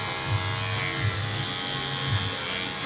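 Cordless hair clippers fitted with a magnetic number 2 single-grade guard, buzzing steadily and close up while cutting hair just above the temple, with small periodic dips in the motor tone.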